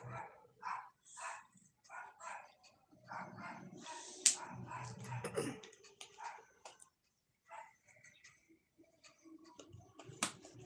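A pet dog barks indoors in a run of short, evenly spaced barks, then a louder, busier stretch, then sparser yips, at moderate distance with some household noise between.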